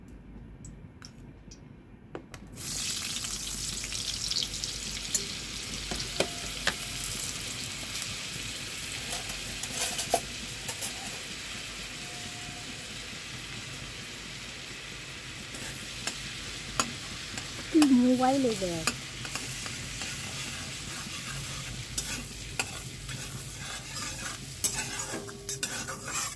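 Butter and white oil heat in a kadai with a steady, low sizzle running throughout, marked by occasional light ticks and a stir, and a brief spoken remark near the start.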